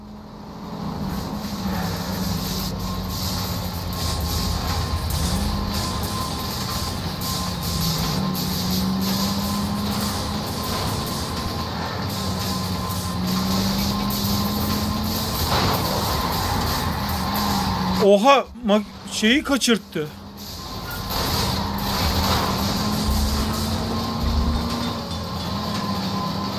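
A train rumbles steadily past in the video game L.A. Noire, a continuous rail clatter with a brief metallic screech near the end, heard under someone talking.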